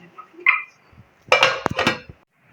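A metal pan is lifted and set down over another pan to cover it, making a light clink followed by a louder metallic clatter and scrape as it settles, with no talk.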